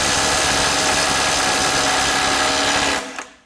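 DeWalt DCF902 12V impact wrench fastening at 100 foot-pounds, a loud, dense, high-pitched rattling whir held for about three seconds before stopping sharply.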